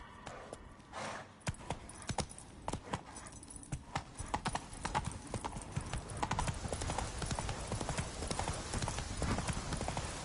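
Roach, Geralt's horse in The Witcher 3, gallops in a quick, steady clip-clop of hooves that builds from sparse beats into continuous rapid drumming, fairly close.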